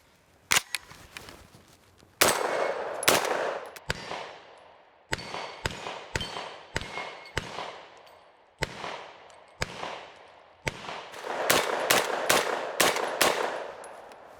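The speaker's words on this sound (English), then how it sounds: "So let's get some more shots down range." An Extar EP9 pistol fires at a range, about twenty sharp, loud reports in irregular bursts and single shots, some in quick strings, each ringing out briefly with nothing else heard.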